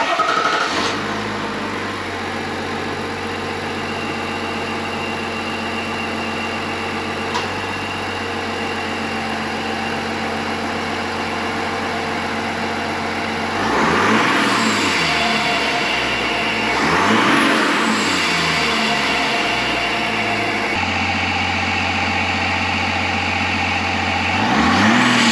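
A 3.0L Duramax diesel truck engine fitted with an Airaid intake idles steadily and close by, with a low, even rumble and a few brief swells in engine note partway through. No one speaks.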